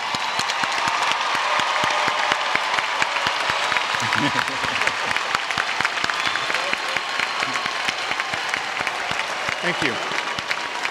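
Sustained applause from a large commencement crowd at a college graduation as honors students wearing cords stand, dense steady clapping throughout with a brief spoken thanks over it.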